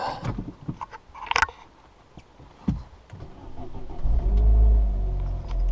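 A Vauxhall Corsa VXR Nurburgring Edition engine starts up with scattered clicks and clunks, catches, and settles into a steady, loud idle hum close by.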